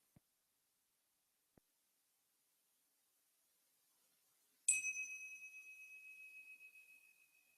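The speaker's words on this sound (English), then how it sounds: "listen to the sound of the bell, just to mark the start and end of this brief awareness of breath meditation" A single meditation bell is struck once, its clear ringing tone sustaining and slowly decaying with a gentle wavering pulse over several seconds, after two faint soft taps in an otherwise quiet room.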